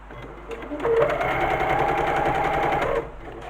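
A sewing machine runs a steady stitching burst of about two seconds while hemming a ribbon-trimmed strap on a fabric tote bag, starting and stopping cleanly, close and fairly loud with no talk over it.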